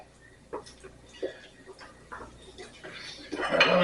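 Lobster thermidor ingredients are stirred in a pan, with a few soft scraping taps of a utensil against the metal spaced through the clip, close and fairly quiet, building to a louder sizzle at the end.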